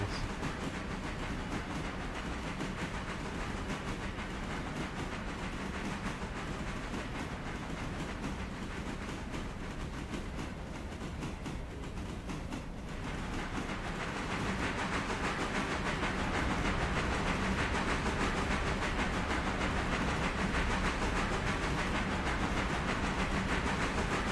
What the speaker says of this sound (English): I can hear all the train wheels